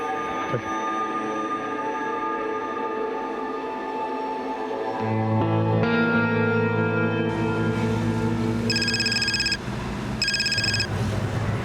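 A telephone rings in a tense indoor police crime-drama scene, its bright repeated electronic bursts cutting in twice over a loud, sustained dramatic music bed.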